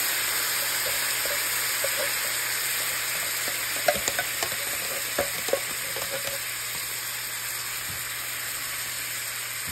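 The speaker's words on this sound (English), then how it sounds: "once this is nice and fried up and, and the spices are cooked, I'm adding some coconut milk" Spices frying in a sauce with coconut milk going in, a steady close sizzle broken by several stirring clinks and scrapes, no talk.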